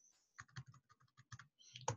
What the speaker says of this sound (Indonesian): saya akan ketikkan di sini